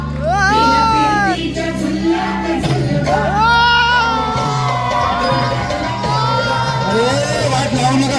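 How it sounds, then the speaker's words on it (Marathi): A crowd at a Bhim Mahotsav celebration in Angavali cheers loudly, with children shouting and whooping in an energetic, continuous din. "टाळ्या होऊ देत"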